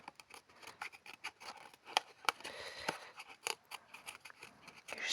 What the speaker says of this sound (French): Je vais découper le surplus.